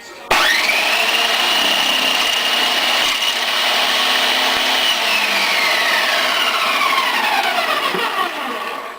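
A food processor with its blade flipped to the slicing side cuts small chunks for a chicken stew, giving a loud, continuous whirring and grinding for several seconds before spinning down.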